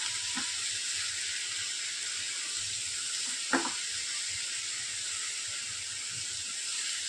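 Onions sizzle steadily in a pan for a bitter melon stir-fry, a constant close hiss with a couple of faint clinks of stirring.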